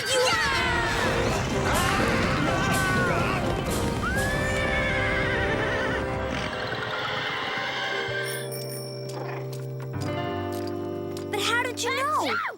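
Horses whinny loudly several times over clopping hooves and clatter, with shrill neighs returning near the end.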